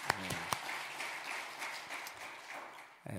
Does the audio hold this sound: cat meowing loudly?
no